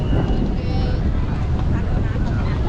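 Heavy, continuous wind roars and buffets the microphone in a dense low rumble at a pigeon-filled spot in Cambodia, with a voice faintly audible beneath it.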